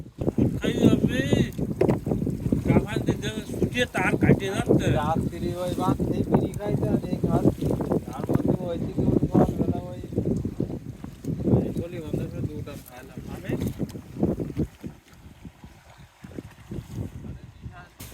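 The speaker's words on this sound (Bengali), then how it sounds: "ট্রলারের সামনে থেকে সাগরের পরিবেশটা ঠিক এমনই লাগে তবে সমুদ্রের তুফান হওয়ার কারণে পরিবেশটা একটু ভিন্ন হয়ে গেছে" A fishing trawler out at sea in a storm, with a steady wash of wind and engine noise throughout and voices talking over it, easing slightly near the end.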